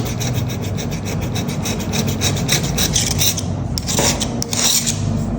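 Knife scraping blue paint off stained woodwork, a close, loud rasping scrape repeated in quick rough strokes, with no talking.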